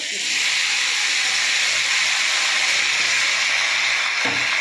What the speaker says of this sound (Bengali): আমি এবার কচু আর আলুটা ঢেলে দেবো